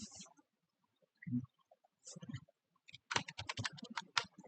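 Computer keyboard typing, a few isolated key presses followed by a quick burst of rapid clicking, close and quiet with pauses between.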